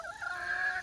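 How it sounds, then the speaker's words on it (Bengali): A desi hen from a small backyard flock of five gives one drawn-out, quavering call, faint and alone against quiet surroundings. "5টা মুরগি আছে।"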